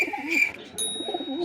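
A pigeon coos close by, with soft throaty warbling calls repeating over a faint higher tonal background.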